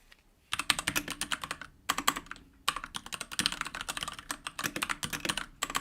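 Fingers type on a computer keyboard in quick, uneven bursts of close, crisp clicks, separated by short pauses, with no one talking.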